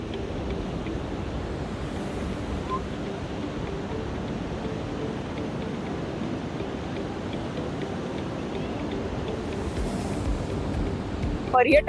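Steady rushing sea surf fills the whole stretch at a beach by a Ganesh temple at Ganpatipule, a continuous wash of waves with light wind, fairly even in level and heard from a short distance.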